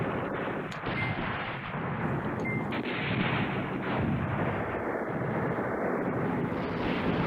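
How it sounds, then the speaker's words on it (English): Artillery fire in the wargame Command Ops 2, a continuous rumbling barrage of dull booms and distant blasts, dense and loud with no talking. "I brought the artillery down here because they are doing their work from that side."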